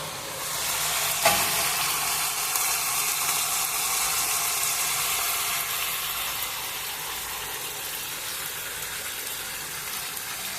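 Cooked chicken curry gravy is poured into hot oil in a pan on high flame, giving a loud, continuous hissing sizzle with a sharp burst early on, close up and with no talking.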